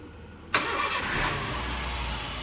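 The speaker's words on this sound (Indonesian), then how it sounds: "Sekarang kita lihat untuk performa mesinnya. Coba dinyalakan Om." A used car's engine cranks and catches with a sudden loud burst, then settles into a steady, smooth idle nearby.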